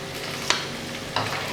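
Pork frying in a pan with curry leaves and green chili gives a steady, dense sizzle, with two brief sharp crackles as the leaves hit the hot oil. No one speaks.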